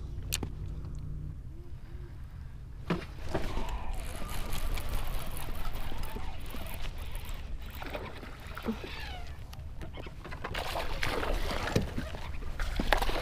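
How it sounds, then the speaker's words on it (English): Bass boat motoring past on Lake St. Clair during a fishing tournament, a continuous low engine drone and hull rumble with water splashes, heard from a kayak, swelling louder toward the end. "The bass boats get so impatient."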